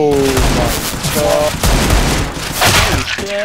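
Loud, close bursts of gunfire in the video game CS:GO fire repeatedly, mixed with booming impacts, while a voice talks over the shooting.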